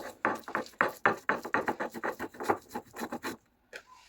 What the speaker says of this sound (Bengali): এখানে আমি মাছ বেটে নিতেছি